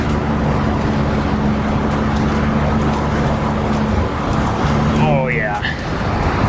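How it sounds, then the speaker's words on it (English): A BMW Z3 engine pulls uphill on a curvy mountain road with a steady, loud drone and a low, constant hum, joined by a brief rising whine near the end. "I will say that this car has a prowess when it comes to going uphill."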